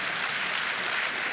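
Audience applause fills a German talk on the digital learning revolution, a dense, steady clapping from a hall crowd that runs loud and unbroken without any speech.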